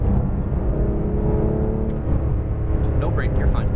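A car accelerates on a cone-marked driving course, giving a steady, close engine and road roar throughout, with a few brief high chirps near the end.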